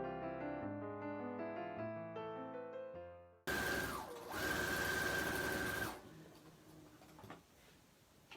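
A sewing machine runs a straight stitch on a sleeved snuggle, starting loud and close after a stretch of music, whirring steadily for a few seconds before slowing and fading into quieter handling noise.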